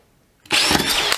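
Cordless 12V brushless drills, a DeWalt DCD701 and a Milwaukee M12 FPD Gen2, kick on after a brief silence into a sharp, loud, high-pitched motor whir that holds for under a second.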